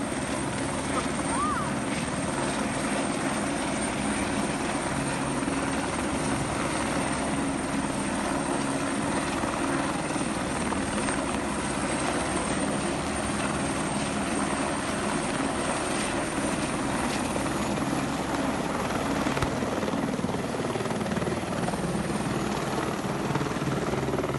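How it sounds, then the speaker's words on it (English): A firefighting helicopter hovering over a pool to fill its water bag: steady rotor roar and engine drone hold close and loud throughout, with a constant broadband whoosh and no pauses. "These helicopter pilots were battling a wildfire and needed to fill their water bag from a local pool"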